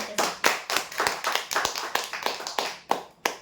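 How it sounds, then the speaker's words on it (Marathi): A small group claps briskly at a prize draw announcement, quick uneven slaps at close range, a short burst of applause without voices. "जोरदार टाळ्या होते"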